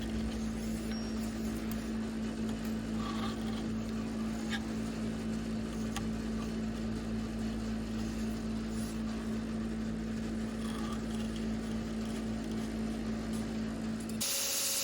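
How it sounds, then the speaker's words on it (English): Belt grinder running a coarse 50 grit belt against the bevels of a Damascus steel chef's knife, a steady droning hum with a constant tonal whine and gritty abrasive hiss, continuous and moderately faint, cutting off abruptly at the end. "I roughen the bevels with a coarse 50 grit belt."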